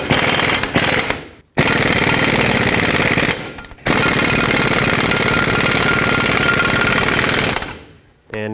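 An impact wrench snugs up the knuckle nut on a 2007-14 Chevy Silverado in loud, sustained rattling bursts, close by, with brief pauses between long hammering runs.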